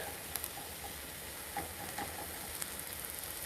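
Vegetables sautéing in a pan for a five-ingredient pasta, a faint even sizzle with scattered small pops and crackles, close but quiet, no talking.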